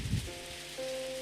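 Steady rain falls in the Shuffle! visual novel game, a soft, even hiss on a surface with a faint tonal hum running underneath.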